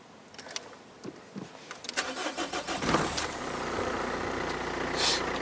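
A car engine cranks with a few quick starter turns, catches after a couple of seconds and settles into a steady idle that carries on to the end, heard up close.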